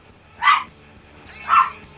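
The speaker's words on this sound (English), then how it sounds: "Dog, please shut up." Dog named Roxas gives two sharp barks about a second apart, close and clear against a quiet background.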